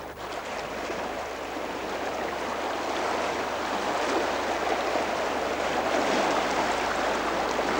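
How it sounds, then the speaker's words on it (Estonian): Waves break continuously on an Estonian sea shore, a loud, steady wash of surf with some wind, no voices, building slightly over several seconds. "Ja näitame veel ühe korra seda merd."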